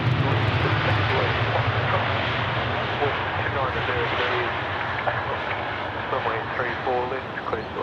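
A Philippine Airlines Airbus A350 landing on runway 34 left at Sydney Airport makes a loud, sustained jet roar with engine whine, while radio and voices talk over it.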